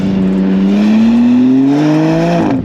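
BMW M2 engine revving hard with a rising tone as the revs climb on a road near the Paul Ricard circuit, then a sharp drop at the upshift. Loud, close and continuous, with no talk.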